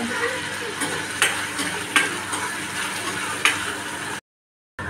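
Green chillies and curry leaves crackle and sizzle in hot oil in a home kitchen pan, a steady frying hiss with several sharper pops and spatters, close and fairly loud, cut briefly by a gap of silence near the end.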